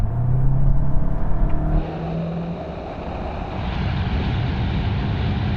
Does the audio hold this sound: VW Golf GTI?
yes